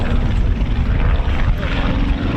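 A vintage propeller aircraft flies over the airshow at Old Buckenham, its engine drone steady and broadband throughout, fairly loud with a rough, continuous roar.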